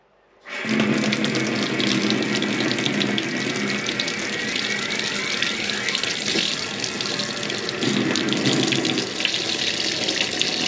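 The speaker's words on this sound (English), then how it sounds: "I can hear the pump going, I can hear the hot water thing firing, and I can feel the hot water." Water gushes steadily from an off-grid tap fed by a pump, a close, continuous rushing flow that starts abruptly and holds at an even level throughout.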